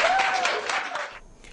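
Crowd applause from a gathering of teachers, dense and steady for about a second before thinning out, with a faint voice and tonal sound mixed underneath.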